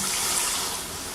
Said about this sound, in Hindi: अब मैं ये 2 कटोरे मैं इसमें पानी में डालूँगी।